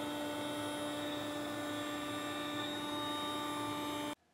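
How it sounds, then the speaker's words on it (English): A Phantom CNC router, a 5x10 automatic tool change unit with a vacuum table, runs with a loud, steady tonal hum and whine that stops abruptly near the end. "This is a Phantom CNC, fully automatic tool change unit, 5x10 with a vacuum table."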